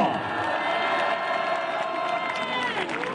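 Protest crowd outside the APEC summit in Gyeongju, South Korea, cheering and applauding in a dense, continuous wash of noise over a short stretch, with voices mixed into the din.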